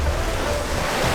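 Ocean waves breaking over a rocky shoreline under stormy cloud cover, heard as a steady, broad wash of surf roar with some wind rumble on the microphone, no voices.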